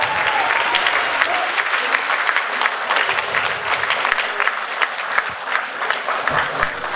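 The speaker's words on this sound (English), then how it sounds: "Let us thank Vaishnavi for the truly mesmerizing performance with a huge round of applause" An audience at a college cultural night at Chennai Mathematical Institute applauds after a performance, with dense, sustained clapping from a large crowd that stays loud and even for several seconds.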